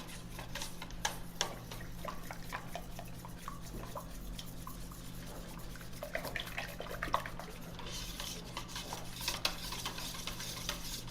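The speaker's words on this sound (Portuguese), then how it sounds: "Eu tô fazendo isso com auxílio de um fouet aqui" A balloon whisk stirs a mixture in a bowl, making a soft, steady scraping and swishing at a quiet, close level with no talking.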